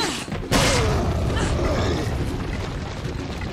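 A grenade in Resident Evil 4 goes off with a sudden loud, close boom, followed by a long rumbling roar that slowly fades.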